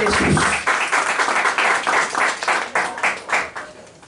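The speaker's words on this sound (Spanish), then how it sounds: "Le doy una fuerte ofrenda de palmas al Señor." A church congregation claps hands as an offering to the Lord, producing a burst of loud, close claps that settles into rhythmic clapping and tapers off toward the end.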